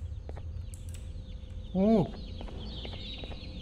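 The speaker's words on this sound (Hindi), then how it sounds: "उस चिड़िया की आवाज़ आ रही है" A creature's call sounds in the horror video game Garten of Banban 2, a single loud, falling squawk with harmonics over a low ambient hum, briefly preceded by an exclamation from a player.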